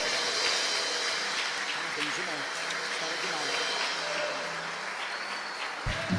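A church congregation applauds together, a steady, fairly soft clatter of many hands that carries on for several seconds, with faint voices mixed underneath.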